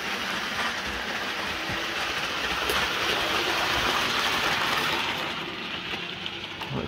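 A Hornby Virgin 125 HST model train runs along its track, giving a steady close whirring rumble and rattle that swells slightly midway and continues throughout with no talking.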